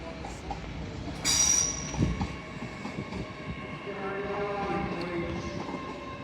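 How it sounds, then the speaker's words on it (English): An LNER Class 800 train pulls into Doncaster station on the East Coast Main Line, a steady rolling rumble with a brief loud hiss or squeal early on, carrying on under faint platform voices. "Also arriving in now is your 1118 LNER Zoom service from Leeds to London King's Cross of 800 107."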